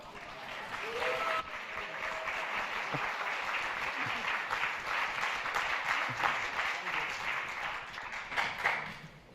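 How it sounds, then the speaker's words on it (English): Sustained applause fills the room at a Berlinale film festival press conference, an even, dense patter of many hands clapping from start to finish, with a few brief voices faintly underneath. "thank you for your applause"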